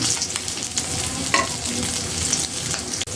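Fish frying in oil in a pan, a continuous close sizzle with occasional scrapes and clinks of a stirring utensil.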